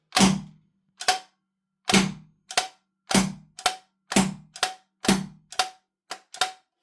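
An APS CAM870 airsoft shotgun fires repeatedly at close range, about a dozen sharp cracks in paired bursts, each followed by a quick mechanical click, with silence between shots.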